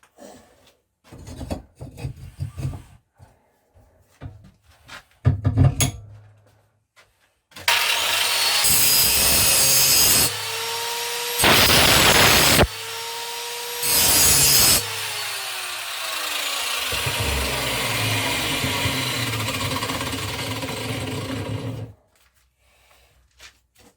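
A grinder works the blade of a Mountfield SP536 lawn mower, first in short taps, then in a long, loud abrasive whine lasting about fourteen seconds, broken by a few brief pauses.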